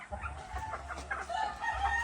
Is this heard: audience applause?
no